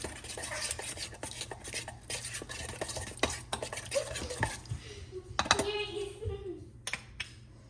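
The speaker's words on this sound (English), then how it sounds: "I'm gonna give this kind of like a mix before we put the guava in there" Ingredients being stirred in a bowl for a flounder dish before guava goes in, a utensil scraping and clinking steadily against the container, close and moderately loud, with a few sharper knocks toward the end.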